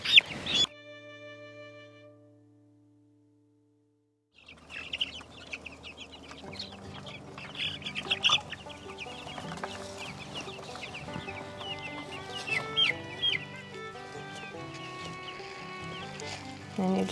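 Meat chickens cluck and squawk in a crowded, continuous chorus inside a chicken tractor outdoors, after a brief pause, with occasional louder calls rising above the flock.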